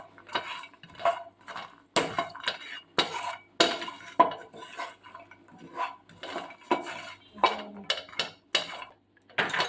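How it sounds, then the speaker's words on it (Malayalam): A spoon stirs makhana (lotus seeds) frying in a pan, giving repeated close scraping and clinking strokes in an uneven rhythm with short pauses between them. "നല്ലോണം പറ്റുന്നവരെ നല്ലോണം ഇളക്കണം"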